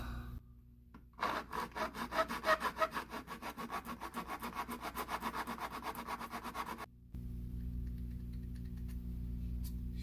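Rapid back-and-forth scraping of sanding off drill-hole bumps on a hard surface, a steady rhythmic rasp for several seconds, stopping abruptly before a low hum.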